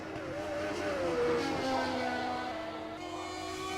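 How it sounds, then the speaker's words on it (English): A race car in practice at the Belgian Grand Prix sweeps into a corner, its engine note droning and shifting pitch as it lifts and then picks up again, heard at moderate distance and steady throughout. "Guiding that car into the corner that doesn't have a name."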